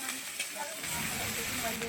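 Garlic paste frying in mustard oil on top of already fried onion paste, a steady soft hiss with a voice talking over it.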